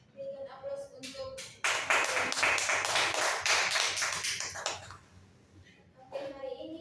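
Classroom applause, a burst of many hands clapping that lasts about three seconds, close and fairly loud, with speech heard before and after it.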